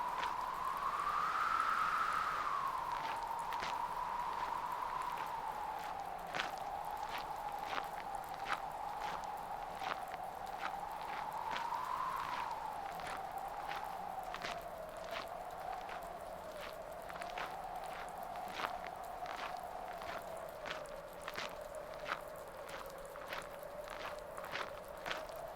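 Steady pattering rain with a crunchy, hail- or snow-like quality in a video game built with Wwise and Unity, while footsteps crunch on gravel at a regular pace, over a droning tone.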